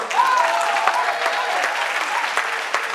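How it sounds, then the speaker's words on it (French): Audience applause at a Pan-African political assembly, a dense, steady burst of clapping from a crowd lasting a few seconds. "Je pense que ça mérite de les applaudir."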